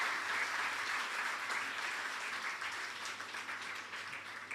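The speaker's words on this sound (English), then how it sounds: "A huge round of applause to Nagarjun." Audience applause steady for several seconds at a session on answer writing for IAS exam candidates, loud, dense clapping from a large crowd with no talk over it.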